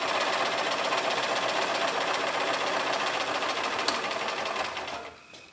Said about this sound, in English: You're stitching through the arm.